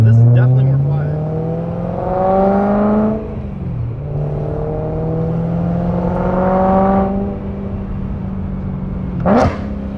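A BMW E90/E92 M3 with the S65 V8 running through a Bomiz prototype X-pipe exhaust, rising and falling through several revving pulls and shifts with a raspy drone, loud and close, with a brief sharp burst near the end.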